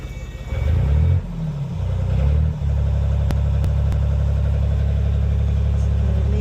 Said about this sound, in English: I'm going to go turn the engine on